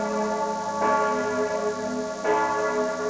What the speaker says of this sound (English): the steeple bells of Austria echoed each other today, ringing their requiem for those who died